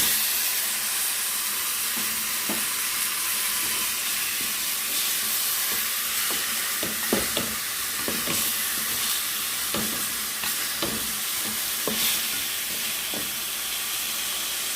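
Meat hits a pan of browned shallots and garlic and sizzles loudly and steadily, with a constant hiss and scattered spatula clicks and scrapes throughout, close up and with no voices.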